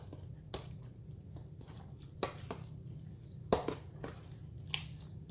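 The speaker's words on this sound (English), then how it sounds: "let me get this stirred in" Bread is stirred into a chicken dressing mixture in a bowl, making quiet, soft squishing and scraping sounds with occasional sharper spoon taps against the side of the bowl.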